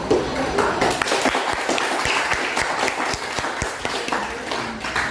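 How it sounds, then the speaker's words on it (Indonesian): Steady applause from a group after a group presentation, dense overlapping claps with a few sharper individual claps standing out, continuous for the whole stretch. "tepuk tangan dulu untuk kelompok"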